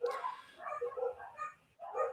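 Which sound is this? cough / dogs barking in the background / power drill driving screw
dogs barking in the background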